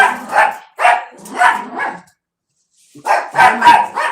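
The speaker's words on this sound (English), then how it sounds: "Pappy, you barking ain't gonna stop her from leaving." A dog barks close by, four quick barks, a pause of silence, then another burst of several barks.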